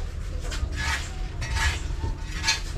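Plates and dishes clink and clatter in several short, bright bursts of handling, fairly close, with no talking over them.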